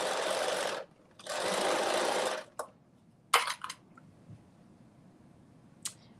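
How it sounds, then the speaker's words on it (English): A sewing machine stitches skirt pieces in two sustained bursts of rapid whirring, followed by scattered clicks and handling knocks in a quiet room. "I am using my sewing machine."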